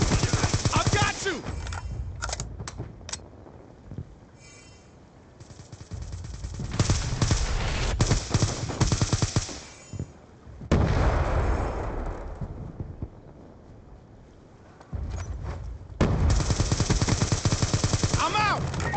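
Call of Duty Black Ops II multiplayer match with bursts of rapid automatic gunfire and shots in several clusters, separated by quieter stretches, with game voices heard in places.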